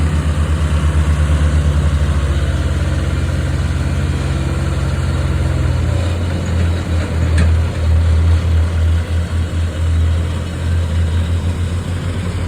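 A diesel loader engine pushes hot wood chips into a trailer, chugging loud and close with a steady low throb that shifts pitch midway as the machine works under load and then pulses rhythmically.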